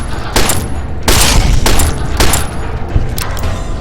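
Hand cannon gunfire from a Fallout New Vegas mod: several loud, close booming shots fired in quick succession, each with a sharp crack and short echoing tail.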